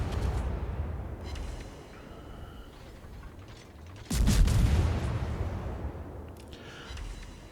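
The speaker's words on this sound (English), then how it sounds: "they are shooting HE at a Petropavlovsk" Naval guns firing high-explosive shells at a Petropavlovsk cruiser in World of Warships, a distant rumbling salvo followed by a sudden loud booming blast that rolls on and slowly fades.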